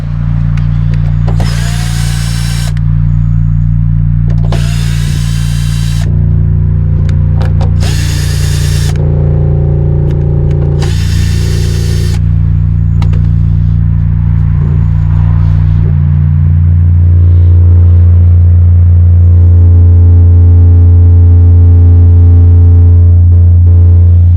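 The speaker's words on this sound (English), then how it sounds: "let's go and open the box whilst it's playing a pretty quiet 29 Hertz" A steady low 29 Hz tone hums from tiny 4-inch subwoofers in a small box throughout, while a power screwdriver whirs in several short bursts as the box is unscrewed nearby.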